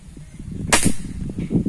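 A Rossi rifle fitted with a scope fires a single sharp crack partway through, outdoors over low background rumble and handling noise, without speech.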